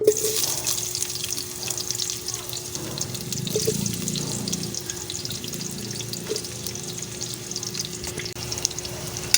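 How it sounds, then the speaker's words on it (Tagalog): Garlic frying in a pan, a constant close crackling sizzle with a steady hum behind it and a few soft clinks, no voices over it. "ilunod na nato atong garlic"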